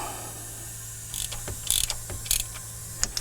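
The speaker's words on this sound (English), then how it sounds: "right now I'm just tightening these enough so that they don't fall apart while I'm doing other stuff" Tightening valvetrain parts on a 1987 Chevy R10 engine gives a few close, sharp metallic clicks and creaks of a wrench working, scattered irregularly over a steady low hum.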